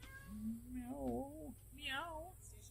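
A station cat meows to be let in, two drawn-out, wavering meows at moderate distance over a low background hum, with a faint tone in between.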